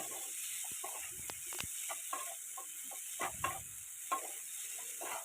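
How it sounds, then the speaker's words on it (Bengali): Vegetables stir-fried over a high flame, with a steady sizzling hiss and scattered clicks and scrapes of stirring, fairly close and even in level. "এগুলোকে হাই ফ্লেমে একটু নেড়ে নেওয়া হবে।"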